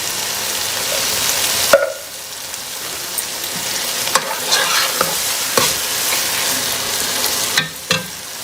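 Minced beef with tomatoes simmers and sizzles in a pan, a steady frying hiss broken by a few sharp stirring scrapes and clinks, close and fairly loud with no talking.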